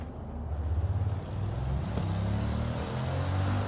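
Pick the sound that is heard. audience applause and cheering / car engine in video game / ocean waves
car engine in video game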